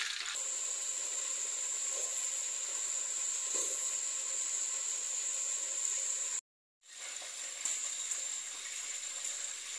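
Catfish frying in hot oil, a steady bright hiss and sizzle running throughout, cutting out briefly to silence before resuming, with no talk.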